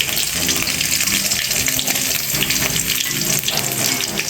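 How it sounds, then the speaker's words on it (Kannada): Crab frying in oil with curry leaves and onion for a Mangalore-style crab sukka: a loud, steady, close sizzle with a crackling hiss that never lets up. "ಇವಾಗ ಅದರಲ್ಲಿ ಏಡಿ ಹಾಕ್ತಾ ಇದ್ದೇನೆ"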